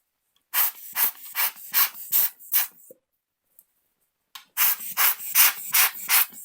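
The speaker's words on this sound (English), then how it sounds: "use the blower again, just like we did before, to make sure any dust particles that are on there are blown off" A hand air blower puffs dust off a camera sensor in two quick runs of about six sharp, close hissing squeezes, separated by a short pause.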